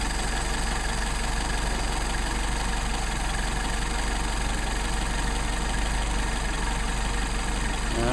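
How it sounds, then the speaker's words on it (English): A car engine idles loudly and steadily at close range while its idle mixture screws are turned in and out until it stumbles. Any roughness in the steady idle is very subtle, and no one talks. "turn them in until the engine stumbles, out until the engine stumbles"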